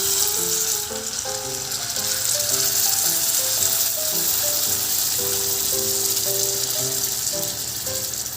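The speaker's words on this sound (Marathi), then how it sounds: "अर्धा ते 1 मिनिट डाळ ही भाजीमध्ये परतून घ्यावी" Dal and vegetables being sautéed in a pan for a village-style dal-onion curry give a steady, close sizzle and crackle throughout, with faint intermittent scraping from stirring and no talk.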